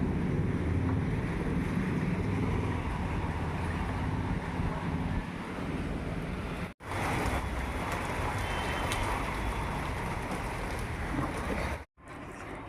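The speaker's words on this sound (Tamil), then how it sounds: "இடி மின்னல் மழை" Heavy rain pours down in a steady, dense broadband wash, loud and close throughout, briefly cut off twice; no distinct thunder claps stand out.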